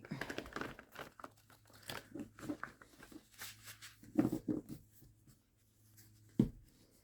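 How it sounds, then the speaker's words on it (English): Tarot cards shuffled by hand, giving soft papery riffling, rustling and crinkling with a few sharper card slaps, close up and fairly quiet with no talk. "I'm going to shuffle them on camera so you can see them"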